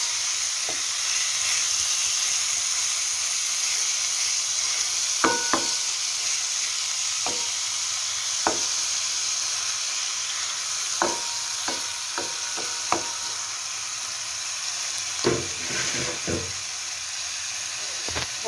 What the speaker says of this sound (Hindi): अब ये सारा जो है मैरिनेटेड चिकन जो है इसके अंदर हम लोग ऐड करते हैं।